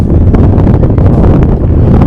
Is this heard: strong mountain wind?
yes